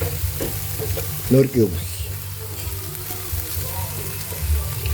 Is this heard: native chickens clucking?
no